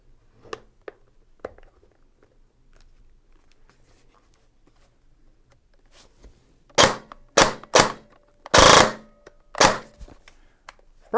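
An SSR90 airsoft gun being test fired after assembly: a few faint clicks, then a quick series of sharp, loud shots at close range, with one longer burst among them.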